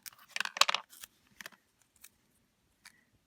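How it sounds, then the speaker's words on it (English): Scissors snip through foam tape for a stamped card sentiment: a quick close cluster of crisp cuts at the start, then a few sparse, isolated clicks trailing off into quiet. No talking. "Grab some scissors and just cut this down."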